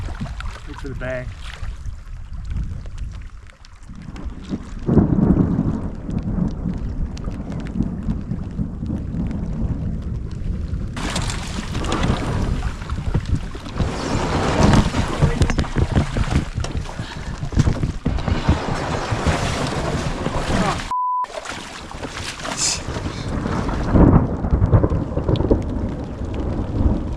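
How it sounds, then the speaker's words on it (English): Thunder rolls and rumbles heavily during a storm over a lake in the Canadian wilderness, with rain hissing steadily throughout and muffled voices now and then underneath. "we just started hearing thunder in the background"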